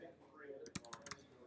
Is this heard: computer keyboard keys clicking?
yes